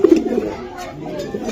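A racing pigeon coos close by in a short, soft burst, with low murmuring voices in the background.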